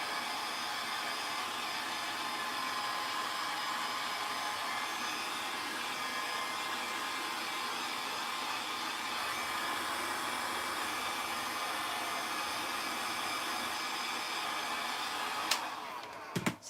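A heat tool warming craft ribbons gives a loud, steady blowing whir that runs unbroken for many seconds, ending with a couple of sharp clicks as it is switched off.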